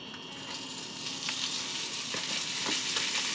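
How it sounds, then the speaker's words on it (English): Steady sizzling and crackling of meat frying in a hot pan, moderately loud and continuous, with occasional faint scraping. "Heat frying pan. First I'm gonna be cooking beef."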